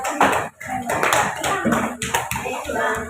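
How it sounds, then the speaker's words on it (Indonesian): Hands clapping in a classroom as students applaud a classmate, with talk mixed in among the claps that starts and then fades. "Beri tepuk tangan untuk Zahwa karena berhasil"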